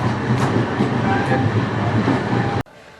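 Hirakud Express train standing at Sambalpur station with its locomotive about to move back, giving a steady loud rumble of rail noise and carriage hum that cuts off abruptly near the end.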